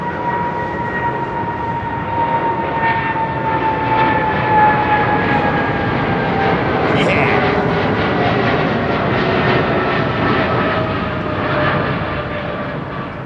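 A jet airliner takes off at London Heathrow Airport with a loud, steady engine roar and whine that holds strong throughout, swelling slightly as the aircraft passes close overhead.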